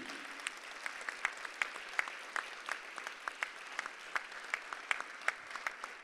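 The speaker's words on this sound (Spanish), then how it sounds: "Estamos cerrando Argentina y pido para eso un gran aplauso." Applause from the audience at the closing ceremony of an international Virtual Educa education conference in Argentina, heard as quiet, sparse, distinct claps in an uneven rhythm, like a small scattered group clapping, with no talk.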